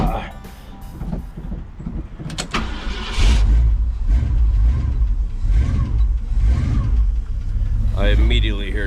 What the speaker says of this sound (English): I immediately hear an exhaust leak.